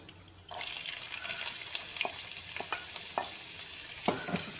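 Ginger and garlic hit hot oil in a pan and break into a loud, steady crackling sizzle, with sharper pops and spoon stirring scrapes scattered through it.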